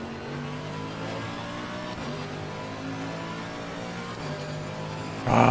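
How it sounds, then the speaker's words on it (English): A race car engine in the video game Assetto Corsa Competizione at the Nürburgring drones with a strong, steady tone, dropping in pitch at shifts around every two seconds, then rising sharply into a loud roar at the end. "Ah, the sound of the car."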